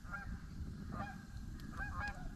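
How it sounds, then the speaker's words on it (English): Geese honk repeatedly outdoors at a truck campsite, several calls spread across a steady background with no talking; any crow calls are not distinct. "We got all kinds of bird activity right now. Crows and geese"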